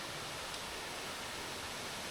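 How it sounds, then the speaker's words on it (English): Waterfall in the Philippines giving a steady, faint broadband hiss of falling water throughout, with no voices. "This might be one of the most beautiful waterfalls I've ever seen."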